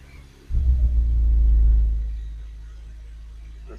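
Austin Mini engine with a freshly refurbished carburettor starts into a deep rumble that swells briefly, then settles to a steady low idle.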